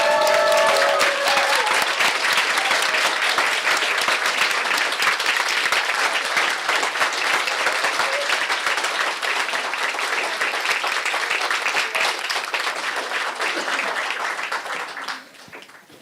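Sustained applause from a standing audience at a school board of education meeting, honoring scholars; dense, steady clapping fills the room for about fifteen seconds before tapering off abruptly at the end.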